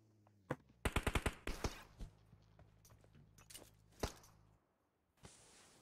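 Gunfire in PUBG Mobile: a rapid burst of automatic shots followed by a few scattered single shots, loud and close, with no talk over them.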